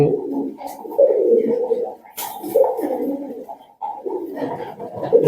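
Pigeons kept at a home loft cooing close by in repeated low, throaty rolling phrases, several overlapping calls with brief pauses, alone without talk.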